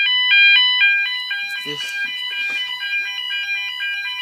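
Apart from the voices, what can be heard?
fire alarm sounding during a test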